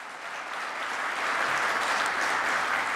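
An audience at a morning innovation summit session in St. Albert claps steadily, a dense, even applause that swells slightly and holds at moderate loudness with no talk over it.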